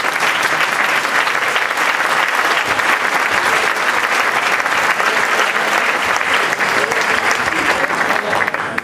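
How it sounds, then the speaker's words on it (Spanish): Loud, dense applause from a crowd, steady clapping throughout with no pauses. "Un aplauso para Tomás"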